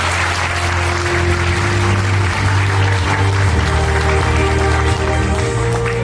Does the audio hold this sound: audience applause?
yes